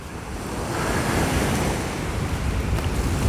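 Waves of the Sea of Azov wash onto the shore in October, a continuous loud roar of surf mixed with strong wind buffeting the microphone.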